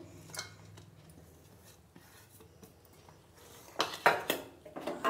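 Finely chopped onion and green chilli tipped into a bowl of ground soybean, with soft scraping and clinking of a utensil against the bowl that turns louder and busier toward the end.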